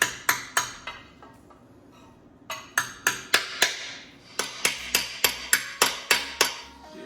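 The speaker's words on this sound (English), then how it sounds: "grab the hammer and smack it then" A hammer strikes old busted pistons from a supercharged small-block Ford with sharp metallic clanks, a few scattered hits and then a steady run of evenly spaced, ringing blows close by.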